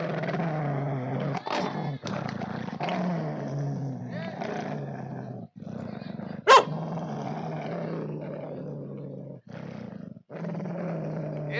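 A performer at a Manasa song show, dressed as a dog, imitates growling and snarling dogs fighting, with rough voiced growls, sharp bark-like bursts and brief breaks, close and fairly loud.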